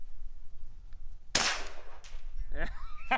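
A single sharp crack from an AEA HP Max .30 caliber air rifle fired outdoors in light wind, a loud broadband burst followed by brief ringing and faint background voices.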